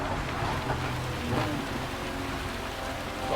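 Steady rain hisses throughout a wet race in the video game Gran Turismo 7, a dense even wash of drops with a low engine rumble underneath and no talking.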